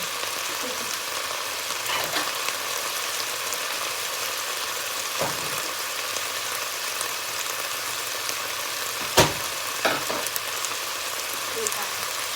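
Pork stir-fried with chili and fermented fish sauce (pla ra) sizzles steadily in a pan, with a few sharper clinks from stirring along the way.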